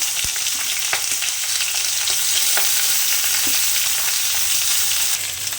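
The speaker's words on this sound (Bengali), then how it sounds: "দেখতে পাচ্ছ আমার ভেজিটেবলগুলো হালকা করে ভাজা হয়ে গেছে" Chopped potato, radish and green chilli fry in a pan with a steady, close sizzling hiss, broken by scattered sharp ticks and pops from the oil.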